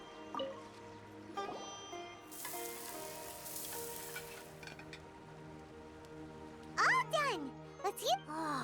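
Sweet Madame being cooked in a video game kitchen: a steady frying sizzle with light clinks, joined by musical tones and brief game voice chirps near the end.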